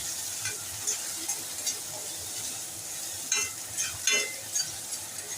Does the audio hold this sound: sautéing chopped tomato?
yes